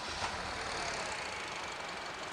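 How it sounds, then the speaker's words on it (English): Car engine idling with a misfire after one coil lead is pulled, a steady, fairly quiet rough running drone heard alone. "just disconnect one of the coil leads and that'll show you misfire straight away"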